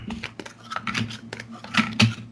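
Tarot cards are shuffled and laid out by hand, making quick papery slaps, flicks and light taps in an uneven rapid patter, close up with no talking.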